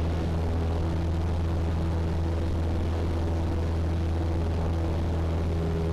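A small propeller airplane's engine at maximum power just after takeoff from Caldwell Airport, a loud, steady droning roar with a constant low hum and prop buzz, close and unbroken throughout.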